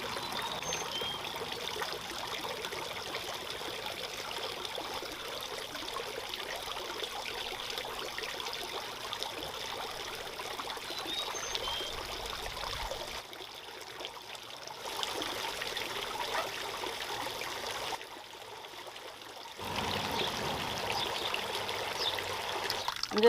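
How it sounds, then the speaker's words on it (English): Water trickles steadily down the spouts of a garden water feature in an entry garden, a continuous close babbling flow that dips briefly twice before resuming. "that way the water will level out and then it'll start to flow down"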